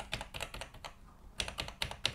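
Keys pressed one after another on an Atari 800 XL home computer keyboard being tested after a ribbon cable repair, a quick irregular series of close, crisp clicks with a short pause midway and no talk.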